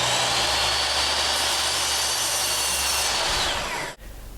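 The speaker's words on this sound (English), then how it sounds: "So we're going with these 1x4 planks. So we're cutting them to length." A 1x4 pine plank being cut to length with a power saw, a loud sustained whine that runs steadily for about four seconds and then stops abruptly, leaving a low hum.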